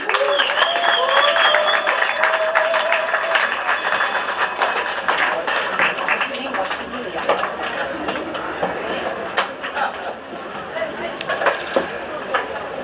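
Loud crowd applause at an outdoor May Day peace rally in Berlin's Treptower Park, greeting a speaker; the clapping is strongest at first, then thins, with a voice sounding through it.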